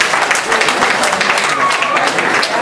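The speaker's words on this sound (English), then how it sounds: "give a big round of applause for all 12 bands again" An audience at a traditional-music battle of the bands claps and cheers in steady applause throughout, with no gap.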